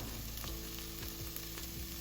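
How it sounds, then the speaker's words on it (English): Tomato paste sautéing in a pot for Turkish red lentil soup, a steady close sizzle of frying that continues without pause for the whole brief moment. "I've sauteed the tomato for about a minute."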